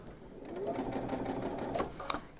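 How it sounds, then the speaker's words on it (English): Sewing machine runs a straight line of stitching on a hooded towel with a close, steady whirring hum that ends in a brief clunk. "you're just going to stitch down the straight line"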